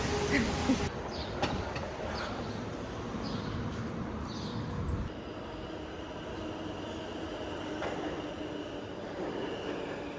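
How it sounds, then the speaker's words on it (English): A New York City subway train rumbles and clatters at a distance with faint wheel squeal, a steady low roar running throughout without speech. "Let's go to the subway."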